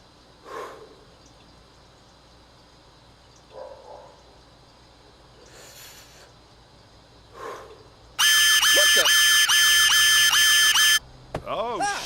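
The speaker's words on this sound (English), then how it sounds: "Fucking smoke detector in the bathroom." Bathroom smoke detector in the game Unheard, a loud harsh electronic alarm blaring steadily for about three seconds, after quieter breathing and soft noises, ending with a short tonal sweep.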